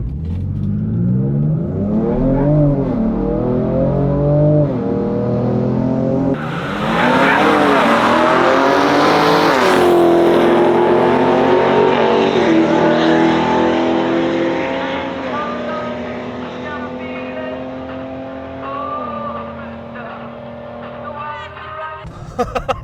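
A Ford Ranger Raptor on 35-inch tyres launches hard from a standing start with brief wheelspin. The engine roars loudly and climbs through the revs, backed by tire noise, then settles into a steady drone as the ute pulls away.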